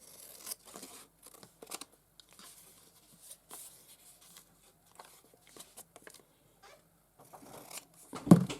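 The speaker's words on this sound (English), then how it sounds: "we'll just cut it down a bit" Scissors snip and rustle through a paper craft tag, trimming it down with a series of soft, close cuts and quiet paper handling, ending in a louder crinkle.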